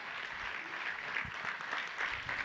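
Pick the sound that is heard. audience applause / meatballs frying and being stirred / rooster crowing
audience applause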